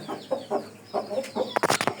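Native desi chickens with newly hatched chicks clucking in short, separate bursts, ending in a louder cluster of sharper calls close by. No one speaks.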